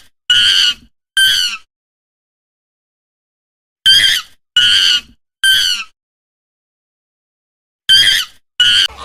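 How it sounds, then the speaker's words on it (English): Monkey calls in three bursts of loud, shrill, harmonic screeches, two then three then two, separated by stretches of silence. "Monkey."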